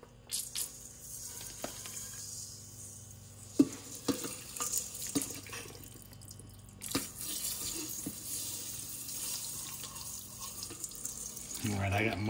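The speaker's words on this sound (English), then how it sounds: "I'm gonna use distilled water and rinse the remaining electrolyte off of these pure silver crystals" Distilled water splashes and trickles as electrolyte is rinsed off pure silver crystals, a soft uneven pour broken by wet squishes and a few sharp knocks.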